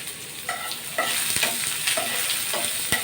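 Chopped onion, garlic and three dried red chillies frying in a little oil, giving a continuous close sizzle with bright crackles and spatula scrapes that thicken into a denser hiss partway through.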